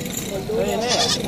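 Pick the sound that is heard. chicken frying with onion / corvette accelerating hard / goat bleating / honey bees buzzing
goat bleating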